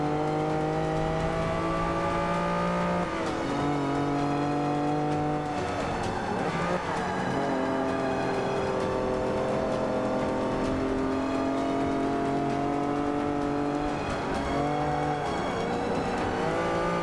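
Race car in Forza Motorsport 5 drifting, its engine holding a loud steady howl that shifts pitch with gear changes and revs, with tire squeal and skidding layered through, continuous for the whole stretch.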